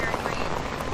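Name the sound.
heavy rain falling in Mooresville, NC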